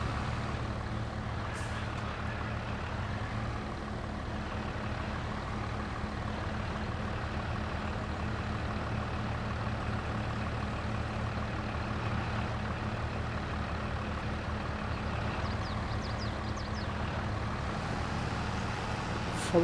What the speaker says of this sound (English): So I'm going to use this tractor to cultivate